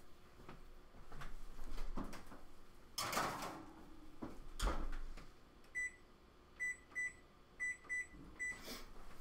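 Kitchen oven door opened and closed while twice-baked potatoes go back in to cook, with a few faint clunks and thuds at low level, followed by a series of short electronic beeps from the appliance.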